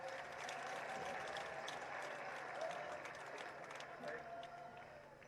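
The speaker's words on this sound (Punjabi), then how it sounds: "ਜ਼ੋਰਦਾਰ ਤਾੜੀਆਂ ਨਾਲ ਸਵਾਗਤ ਕਰੋ" A crowd at an Aam Aadmi Party rally in Lambi constituency, Punjab, claps to welcome a speaker being honoured before Kejriwal. Steady, sustained applause from many hands sounds at moderate distance, with a busy crowd murmur underneath.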